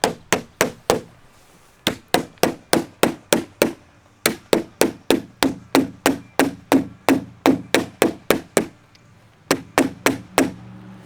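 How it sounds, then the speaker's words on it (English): A non-marking hammer taps window trim during a bow-to-double-hung picture window install, a steady run of about thirty sharp close knocks in quick bursts with brief pauses, no talk. "You want to use a non-marking hammer so you're not scuffing it all up."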